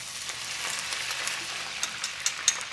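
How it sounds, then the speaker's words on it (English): Sauce hits a hot pan of sautéed garlic and ginger, setting off a steady close sizzle and frying hiss with a few sharper crackles and pops near the end, no voices. "So what I'm gonna do is I'm gonna put my sauce in here."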